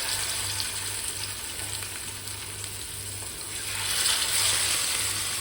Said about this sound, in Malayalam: ഞാനൊരു പാൻ വെച്ചിട്ട് കുറച്ച് വെളിച്ചെണ്ണ ഒഴിച്ചു കൊടുത്തിട്ടുണ്ട്. അതിലേക്ക് ഓരോരോ മീനായിട്ട് ഇട്ട് കൊടുക്കാം.